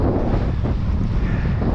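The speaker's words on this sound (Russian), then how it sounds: "Опять поднялся сильный ветер." Strong wind roars steadily across the microphone over the frozen Pechora River, a loud continuous rumbling buffet with no voices.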